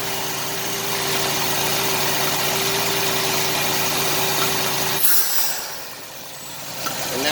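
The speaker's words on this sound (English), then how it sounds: "And now it's misfiring." A 1989 Chevrolet Celebrity's 2.8 V6 idles with a misfire, suspected to come from a failed intake manifold gasket, making a steady close engine drone that cuts out abruptly partway through and leaves a quieter, uneven rumble.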